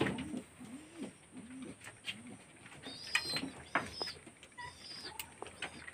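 Pigeons in a loft give several soft, rolling coos in the first seconds, followed by scattered wing flutters, scuffles and light tapping, all fairly close and quiet with no voices.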